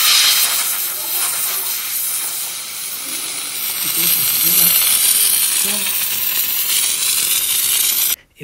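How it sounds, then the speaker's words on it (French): A handheld steam cleaner hisses steadily while deep cleaning a home, a loud continuous rushing jet that holds for several seconds and cuts off abruptly at the end, with faint knocks underneath. "je vais passer ce stream là, comment on appelle ça, cet appareil de vapeur pour maintenant nettoyer à profondeur"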